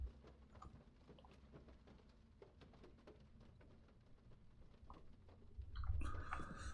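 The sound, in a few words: rain pattering in the video game Thief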